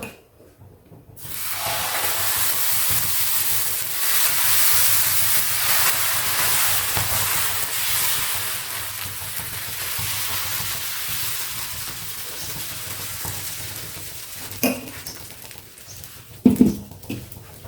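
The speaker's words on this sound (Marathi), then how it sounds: "आता आपण हा डोसा टाकून घेऊया याच्यावर." Rava dosa batter hits a hot oiled pan and sizzles in a loud, steady hiss that holds for over ten seconds, with a few clatters near the end.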